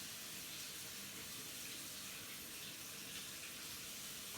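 Hot water poured into a bowl while making a surimi terrine: a steady, close, continuous stream of running liquid with an even wash of noise throughout and no talking.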